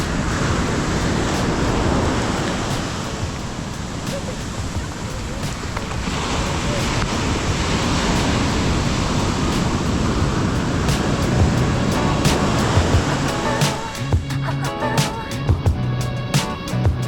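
Ocean surf washes onto a beach in Tenerife with a continuous roar of breaking waves, buffeted by wind noise on the microphone, and a few sharper knocks near the end.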